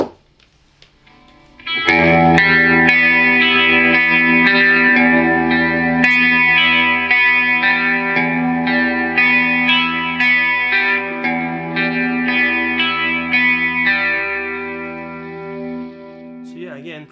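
Electric guitar played through a Positive Grid Spark Mini amp on a preset: a sustained, distorted chord-driven riff with effects, loud and continuous for about fifteen seconds after a brief quiet start.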